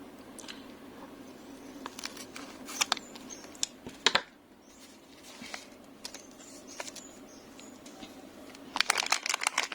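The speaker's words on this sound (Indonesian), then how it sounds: "Kita siapkan gunting untuk membukanya." Scissors cut open the packaging of a low pass filter subwoofer module, quiet scattered snips and crinkly clicks arriving in short bursts with pauses between them.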